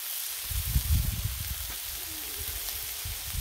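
Meatloaf sizzling on a Blackstone griddle, a close crackling hiss with soft bumps and pops as it is set down, then steady frying noise.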